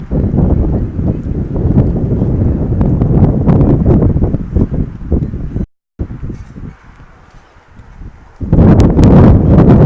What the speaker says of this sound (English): Wind picks up again.